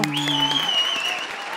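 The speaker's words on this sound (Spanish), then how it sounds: "Un aplauso." Studio audience applause welcoming a guest on a talk show, steady clapping that continues under a sustained tonal sound, holding at an even level throughout.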